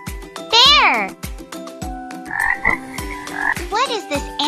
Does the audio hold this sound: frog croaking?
yes